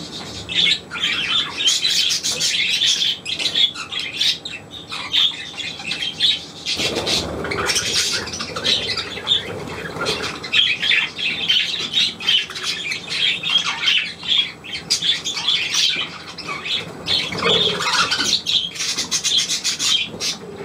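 A budgerigar chirps and squawks continuously at close range, with a busy stream of sharp, bright calls that runs through the whole stretch, alone and without talk.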